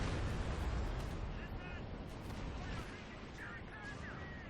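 A mortar barrage in the strategy game Company of Heroes 2 sends a low, rolling rumble of impacts and distant booms through the stretch, loudest at the start and fading slightly, with a voice speaking over it.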